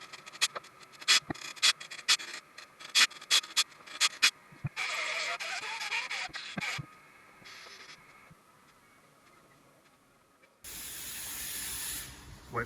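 A stitch-welded repair section goes into a Volkswagen Golf body panel primed with zinc weld-through primer, heard as a series of short crackling welding bursts, then a longer sustained buzz, then a later stretch of steady hissing noise.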